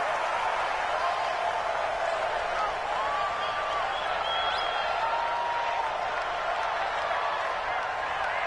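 Steady roar of a stadium crowd in an NFL football video game, Los Angeles Rams versus Minnesota Vikings, a dense continuous wash of cheering and applause filling the whole stretch with no break.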